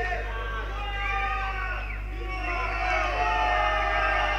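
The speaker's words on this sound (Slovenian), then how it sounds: "Evo sada i publika negoduje zbog igre Banka Intesa" A crowd at a Eurobank versus Banca Intesa business league match voices its disapproval as a continuous, diffuse murmur of many voices, heard alongside a steady low hum.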